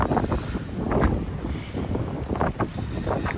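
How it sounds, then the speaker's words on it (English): Gusty wind buffets the microphone, making uneven low rumbling bursts throughout with no clear voices. "if it's a bit windy, well, it's a bit windy"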